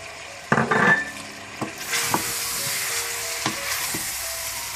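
Ginger garlic paste frying in a pan for an achari chicken dish, starting with a sharp burst of sizzle as it hits the oil, then a quieter steady hiss with occasional spoon scrapes and clinks against the pan.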